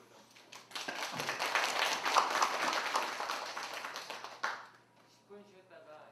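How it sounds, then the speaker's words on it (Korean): Lecture-hall audience clapping for the first lecturer, a broad burst of many hands that builds, holds for several seconds, then fades out, with a voice speaking faintly at the end. "첫 번째 강의해 주신 푸카바오 선생님께 박수를 좀"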